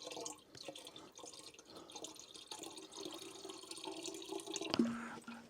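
Water poured into a Pinter home brewing device, a faint trickling and splashing stream running steadily, ending in a brief rising fill tone near the end.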